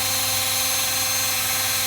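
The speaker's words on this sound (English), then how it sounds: "now I'm drilling out holes for 440 screws" A drill runs steadily while boring holes for 4-40 screws in a metal tool grinder work head base, giving a continuous even mechanical whine and hum with no breaks.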